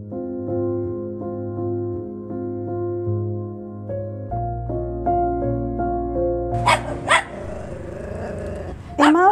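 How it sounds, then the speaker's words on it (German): A dog growls under a steady, tonal hum, then gives two sharp, close barks followed by a shorter yelp at the end. "Wenn mein Hund eine Katze sieht, fängt er an zu bellen."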